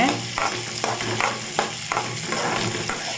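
Onions sautéing in a pan for appalam poo kuzhambu, a steady close sizzle broken by regular scraping stirs of a spoon, with no voices.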